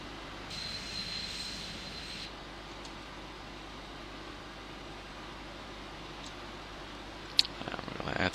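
An airliner's jet engine in a flight simulator runs as a steady low roar and whine during pushback, with faint clicks and a brief high tone, rising slightly at the end.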